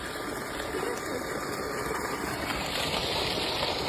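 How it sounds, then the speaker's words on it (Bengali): A motor, likely powering farm work near rice fields, runs steadily at close range with a continuous even hum and broadband rumble throughout, without pauses or changes in pace. "এই যে ফাইনালি মোটর চালু হয়েছে"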